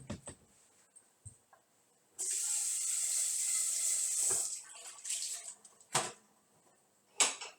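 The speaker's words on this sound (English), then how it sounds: "I gotta drain the pasta before it gets too" Cooked pasta poured out to drain, a sudden loud rush of water running for about two seconds, then tapering into splashes and a few sharp clatters and drips, close by with no talking.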